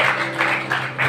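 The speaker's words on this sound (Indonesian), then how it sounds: "Oke, tepuk tangan Bapak Ibu" Guests at a Batak wedding ceremony break into brief applause, a dense, pulsing patter of many hands clapping together close by.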